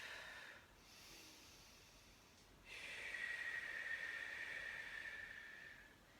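Slow, deep breaths during a guided floor exercise routine, a long hissing inhale-exhale swell that rises in the second half and holds steady, quiet and close with no talking.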